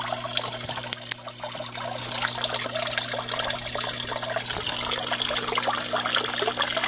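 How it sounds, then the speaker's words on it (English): Water trickling steadily from a small backyard pond waterfall, a continuous close splashing babble with a faint low hum underneath and no talking. "So this is a big waterfall."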